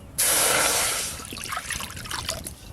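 Water poured into a kadai to boil lentils for a ridge gourd dal hits the pan with a sudden loud gush, then tapers into lighter splashing and trickling; no one speaks.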